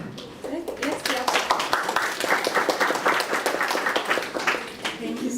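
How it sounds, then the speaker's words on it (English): A live-streamed audience claps together in a dense, steady burst of many hands that holds for several seconds. Voices and cheering mix in with the clapping. "Let's clap"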